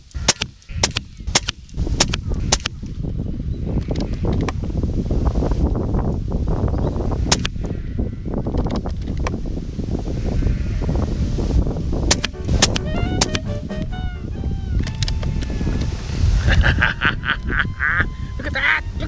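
Shots from an Air Venturi Nova Vista .22 bullpup air rifle fired outdoors in gusty wind, a series of sharp cracks spaced irregularly across the clip, with someone talking throughout.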